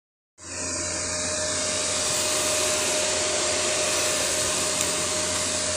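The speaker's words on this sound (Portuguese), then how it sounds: "Nós vamos terminar essa solda aqui." FORTG FG4005W gasless MIG welder welding 2 mm steel sheet, a loud, steady, continuous hiss and buzz that starts abruptly and holds unbroken, close up with no talking.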